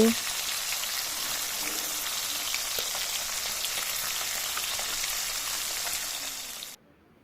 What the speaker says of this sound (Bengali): মাছগুলো ভেজে নিই তারপর আবার ফিরে আসব